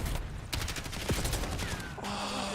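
Rapid video game gunfire from a Terminator-style shooter, a dense burst of repeated shots through most of the clip, fairly quiet overall and heard alone without talk.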